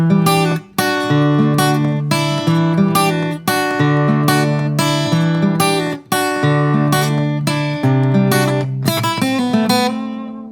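Acoustic-style guitar playing a riff, a steady repeating pattern of plucked notes and strummed chords with a hammer-on figure, clear and close with no talking.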